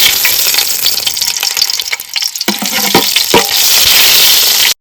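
Butter melts into hot oil in a pan for a creamy white sauce pasta, giving a loud, continuous close sizzle with crackling pops and occasional stirring scrapes before it cuts off abruptly.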